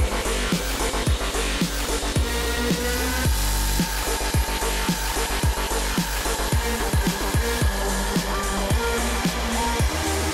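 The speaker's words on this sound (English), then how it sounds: "I took a 1 7/8 inch diameter hole saw and I just put a little divot, a little cove in the end of my tie here" A 1 7/8 inch hole saw cuts a cove into the end of a PVC tie for a roller coaster track, a close, steady whine broken by rapid rhythmic grinding bites throughout.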